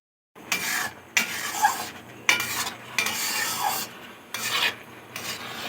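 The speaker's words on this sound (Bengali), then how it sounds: "তো এইভাবে নেড়ে নেড়ে যখনই জলটা অনেক টেনে নেবে, ডোয়ের শেপে চলে আসবে," Dough is stirred and pressed around a pan, giving five or six rasping, scraping strokes separated by brief pauses, close and fairly quiet, with no one talking.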